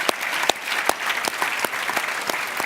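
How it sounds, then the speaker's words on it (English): A crowd applauds Craig at a talk, with steady dense clapping from many hands filling the room, held at an even level without speech. "Let's give Craig a big round of applause."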